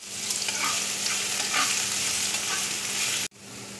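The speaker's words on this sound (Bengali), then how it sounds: "এবার আমি পেঁয়াজ কুচি দিয়ে দিচ্ছি।" Chopped onion hits hot oil in a wok and sizzles loudly and steadily while being stirred, with scraping stirs through the crackle, then a sudden brief drop before the frying resumes.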